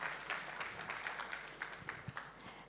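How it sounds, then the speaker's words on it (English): Audience applause at a women's economic empowerment forum in Kenya: a quiet, distant round of clapping with scattered individual claps standing out, no voices. "Let's give him another round of applause."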